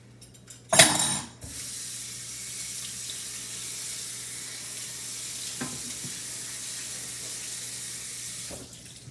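Kitchen tap water runs steadily into a sink while something is rinsed off during peach cobbler preparation, a continuous close hiss with a brief louder splash near the start and a few small knocks, no talking.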